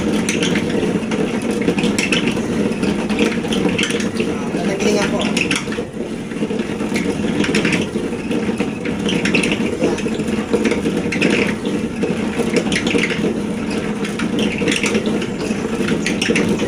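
A homemade hand-cranked corn grinder runs continuously, a steady grinding and crunching mechanical churn with rhythmic rattling, close and loud, with a voice speaking over it at times.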